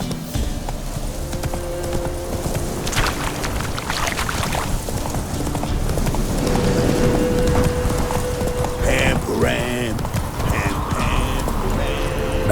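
The horse Roach gallops in The Witcher 3, with rapid hoofbeats drumming throughout, close and loud, under game voices and other effects.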